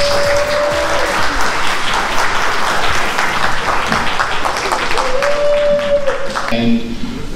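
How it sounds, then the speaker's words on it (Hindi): Loud, enthusiastic applause from the crowd at a corporate annual day event as a guest is called on stage, a dense continuous roar of clapping with an amplified voice and some tonal music or feedback heard over it. "एक बार जोरदार तालियां बजा दीजिए"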